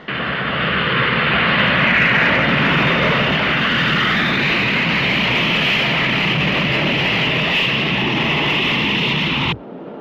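Airplane engine droning loud and steady, a continuous broad roar close by that holds level throughout before cutting off abruptly near the end.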